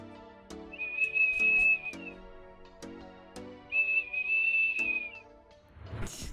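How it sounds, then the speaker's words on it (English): A dog trained to whistle, giving two drawn-out high whistles, each about a second long, with sharp clicks and knocks around them and a brief noisy rustle at the end. "Now he can communicate his needs via whistling instead of barking."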